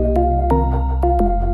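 Synth melody doubled in a low octave and an upper octave, giving a full, bright layered tone; four or five notes step along with crisp attacks over a deep sustained bass, loud and without voices.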